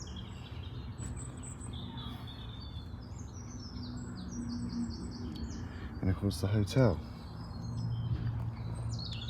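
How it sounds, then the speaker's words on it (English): Birdsong outdoors: bright chirps and tweets repeat throughout at moderate distance over soft ambient noise, while a person talks nearby and a brief cluster of louder calls rises midway. "Hark at the bird song."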